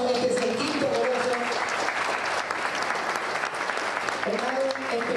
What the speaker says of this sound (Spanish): A ver, fuerte el aplauso, este es el quinto Coloso